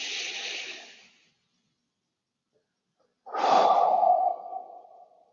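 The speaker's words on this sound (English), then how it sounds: "Everybody breathe in, hold your breath for 4 counts, and then exhale." A group breathing deeply together, a long breathy exhale fading out, a pause of silence, then another strong whooshing breath, close and clear with no talking.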